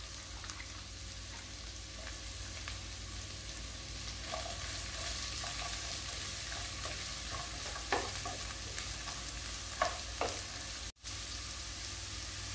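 Sliced onions sautéing in a pan for a broccoli dish, giving a steady low sizzle with a few soft scrapes of stirring scattered through, close and continuous with no talk.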